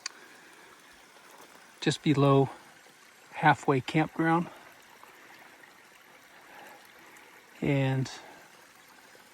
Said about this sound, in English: So here's Vivian Creek crossing